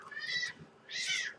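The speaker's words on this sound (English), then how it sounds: "Excuse my cat being played with by my other cat, and that cat doesn't like it." A house cat meows twice in quick succession, a drawn-out complaint while another cat plays with it, fairly close and clear with no talking over it.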